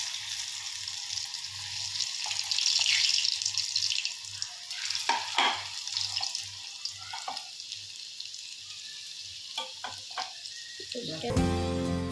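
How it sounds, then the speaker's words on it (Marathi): Papad fried in hot oil sizzles steadily and fairly loudly, with soft stirring taps partway through and a clatter at the very end. "तर आता पहिले पापड घेते फ्राय करून"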